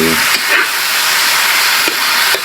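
Bitter gourd (ampalaya) sizzles steadily in a pan with a broad hiss while being stirred during sautéing, with a few faint scrapes of a spoon.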